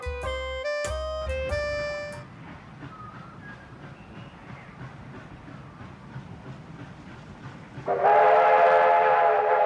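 A train in the video game A Golden Wake opens with loud, sustained chord-like whistle blasts, then a quieter rumble of rolling wagons, and ends with a louder steady tonal hum from the locomotive.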